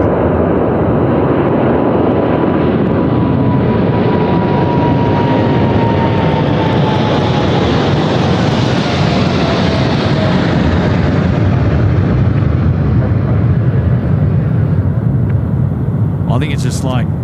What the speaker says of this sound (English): another graceful takeoff from a Boeing 787